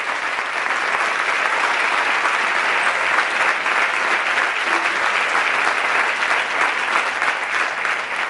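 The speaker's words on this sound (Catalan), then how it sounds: "endavant amb aquest aplaudiment" A theatre audience applauds before an amateur staging of the musical Sister Act, producing sustained, even, full-room clapping that holds at a constant loud level for over eight seconds.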